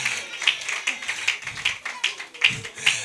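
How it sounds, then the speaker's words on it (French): An audience at a live stand-up comedy show applauds with rhythmic, moderately loud clapping, while a speaking voice carries on over the claps. "Applaudissez pour moi, s'il vous plaît."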